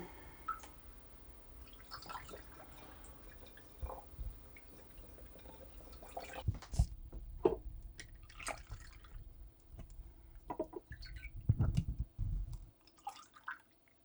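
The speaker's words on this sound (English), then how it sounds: "You're going to just ladle this, which might take a little bit." Kombucha is ladled out of a brewing vessel in soft, irregular liquid drips and splashes, quiet and close, with occasional clinks scattered through the stretch.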